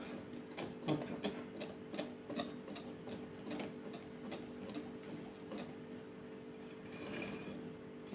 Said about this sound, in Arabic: ولازم في الكيك نضرب كويس قوي.